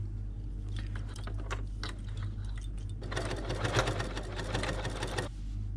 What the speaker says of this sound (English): I'm just going to keep going up and down with my chain stitch until it's all secure